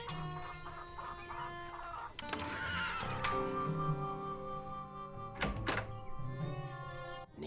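A horse neighs and whinnies on a ranch in the Nancy Drew Shadow Ranch game, a drawn-out call over a soft outdoor bed, with a few hollow thunks around it.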